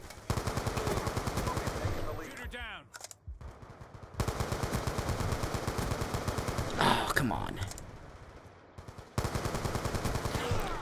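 Sentry gun firing in Black Ops 2, rapid automatic bursts of dense, close gunfire running through most of the stretch with brief pauses and a few sharper blasts mixed in, loud and continuous.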